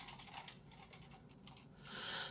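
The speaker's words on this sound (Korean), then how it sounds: "약간 좀 키보드 소리가 좀 거슬리네" A computer keyboard is typed on in a rapid, faint stream of soft clicks, with a brief louder hiss near the end.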